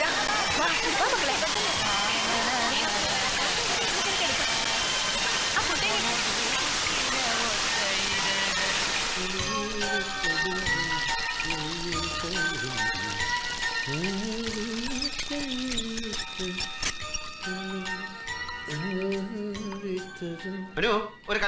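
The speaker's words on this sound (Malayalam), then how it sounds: "ഇതെന്താ ഇപ്പഴിങ്ങനെ ഒരു മഴ?" Rain falls steadily as a dense, hissing wash for the first several seconds, then fades beneath music.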